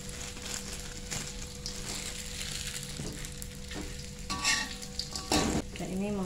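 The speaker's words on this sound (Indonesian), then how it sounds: "Saya goreng lagi." Steamed fish sizzles and crackles steadily in hot oil in a pan, a loud continuous frying hiss with occasional scraping stirs and a brief clatter near the end, no voices.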